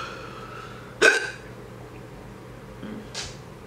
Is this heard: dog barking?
no